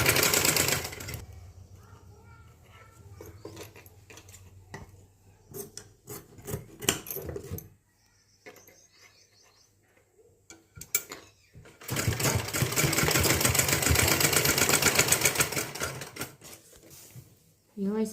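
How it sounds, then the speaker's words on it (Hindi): A sewing machine runs a double stitch along a blouse seam: a few short bursts come amid nearby talk, then a long, steady, loud run of stitching that carries on alone for several seconds. "डबल सिलाई लगा दे"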